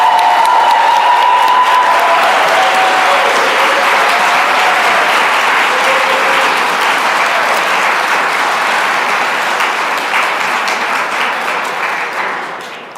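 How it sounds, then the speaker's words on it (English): A large audience claps steadily for a graduating 2025 fellowship cohort at a welcome ceremony, dense sustained applause with a few cheers that holds loud for about twelve seconds before beginning to thin out. "one more big round of applause for the 2025 cohort"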